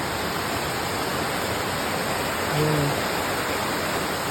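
Rushing water at Umantad Falls pours steadily as a dense, even roar close by, with a brief spoken word partway through.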